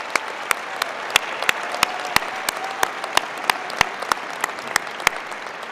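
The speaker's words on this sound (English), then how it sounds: "Let's give them a round of applause" A large audience at a Penn State fall commencement ceremony applauds, with sparse distinct sharp claps standing out over a softer wash of clapping in a big reverberant venue.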